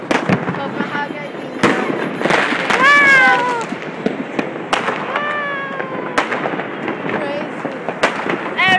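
New Year's Eve fireworks bursting in the streets of Copenhagen, with repeated sharp bangs and crackles near and far, under excited voices and shouting.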